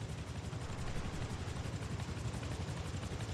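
Helicopter in the console survival game Rust, a loud continuous rotor thump with a steady pulsing rhythm and heavy low engine rumble, passing close overhead.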